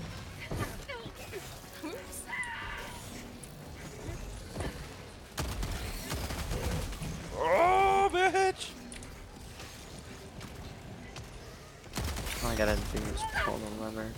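Gunfire in a co-op shooter video game comes in short bursts amid bustling game noise and other effects, with a person talking over parts of the action.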